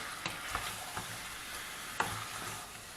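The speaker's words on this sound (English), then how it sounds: "We're going to mix it all up. Let the garlic, chilies and ginger coat the potatoes." Potatoes tossed with garlic, chilies and ginger in a pan, a faint steady frying hiss with a few soft spoon scrapes and taps at irregular moments, and no voices.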